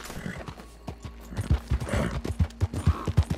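Horse hooves clip-clop in Red Dead Redemption 2, a steady run of sharp, close thuds that grows more regular and punchy as the ride picks up pace.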